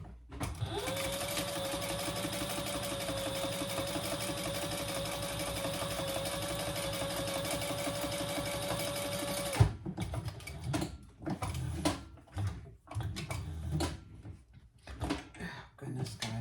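Sewing machine sewing a bag seam, a loud continuous motorized hum for about ten seconds before stopping, followed by handling noises and fabric shuffling.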